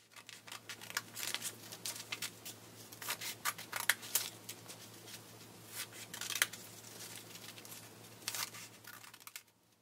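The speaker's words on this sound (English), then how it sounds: "take your scissors and start cutting about 2/3 of the way down the paper" Scissors snip and slice through a sheet of paper as it is cut into a zigzag strip: a steady run of quick, crisp cuts and rustles, close and soft, with no voices.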